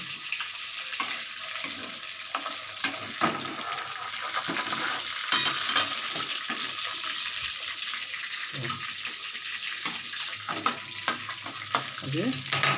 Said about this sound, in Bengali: মাছের মাথাটা একটু ভেজে নিচ্ছি